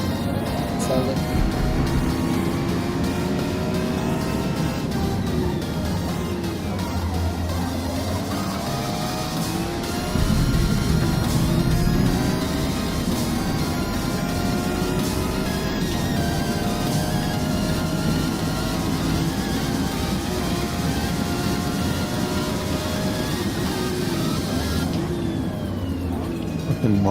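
A Mazda race car in Forza, its engine note rising and falling through gear changes as it accelerates and brakes around a track, loud and continuous with occasional shifts in pitch.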